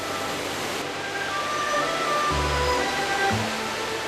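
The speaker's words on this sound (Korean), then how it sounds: "그 중에서도 가장 큰 볼거리는 3단 폭포로 이루어진" The three-tiered Sanxiequan waterfall on Mount Lushan in China, a dense, continuous roar of falling water heard steadily throughout, with a few low tonal sounds briefly rising beneath it.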